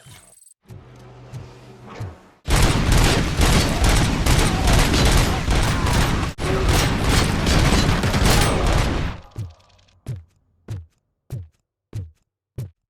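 Heavy cannon fire from the Cobra cannon in the video game Robocop: Rogue City, a loud, sustained roaring barrage lasting several seconds, followed by a string of sharp, evenly spaced single shots.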